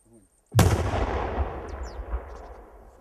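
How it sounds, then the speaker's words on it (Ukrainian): An explosive charge set inside a river ice jam during a rescue-service drill in Ivano-Frankivsk goes off in one sudden loud blast, then rumbles and decays over a couple of seconds, with faint voices just before. "вони встановили підривний заряд в надрах утвореного затору"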